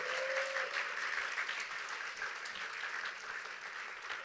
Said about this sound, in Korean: 다시 한번 우리 박수요. 박수를 자꾸 쳐야 돼요.